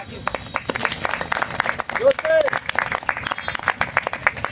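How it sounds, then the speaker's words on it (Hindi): At a public gathering in Aligarh, a crowd claps loudly in sharp, uneven bursts, with individual claps distinct. A brief tonal whistle or voice cuts through near the middle. "पुनः जोरदार तालियां हो जाए"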